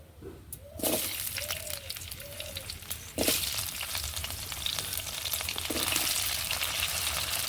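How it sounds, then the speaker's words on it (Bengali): Cut taro pieces fry in hot oil in a wok, with a continuous close sizzle broken by a few sharp clanks and stirring scrapes. "কেটে রাখা কচুগুলো ভালো করে ভেজে নেবো"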